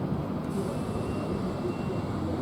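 Class 707 train approaching at London Charing Cross, a steady broadband rumble of wheels and traction at moderate level, continuous throughout with no voices.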